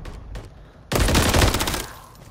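A single loud sniper rifle shot rings out in Call of Duty ranked play, a sharp crack after a quiet lead-in with a decaying tail and echo lasting about a second.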